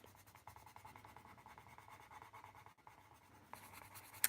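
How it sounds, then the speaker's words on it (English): A Derwent artist colored pencil pressed hard onto paper while swatching gives a steady, faint scratchy scraping close by, ending in a few louder strokes. "So I press really hard with them to get this much color."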